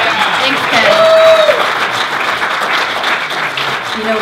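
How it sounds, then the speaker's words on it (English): Audience at a movie night gives a loud, sustained round of applause that stays close and dense, with some voices mixed into the clapping. "I want to start out and give a round of applause to Ken, because this is just so much fun."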